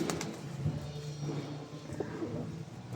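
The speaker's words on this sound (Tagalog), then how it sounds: "Gigil yung kalapati guys." Pigeon cooing in low, repeated soft murmurs close by, with faint background noise and a few brief clicks or rustles between the calls.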